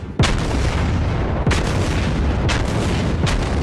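Main guns of the battleship New Mexico firing in World of Warships: four heavy booms, the first and second about a second apart and the last two close together, each loud and near over a constant low rumble.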